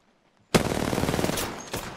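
After a brief quiet, a loud burst of rapid automatic gunfire in a video game erupts and rattles on continuously, with a couple of sharper cracks standing out toward the end.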